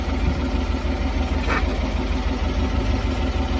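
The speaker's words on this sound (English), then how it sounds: "I think we might have a bit of an exhaust leak over here." A Chevy Silverado engine idles steadily up close, a constant low rumble with a faint hissy exhaust-leak tone mixed in and one brief higher burst partway through; no talk.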